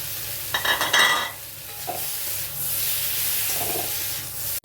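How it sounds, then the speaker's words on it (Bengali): Eggplant tipped into a pan of spiced potatoes, a bright clatter and scrape of spatula strokes giving way to a steady loud frying sizzle, close by. "এবারে আমি বেগুনটা ছেড়ে দিচ্ছি।"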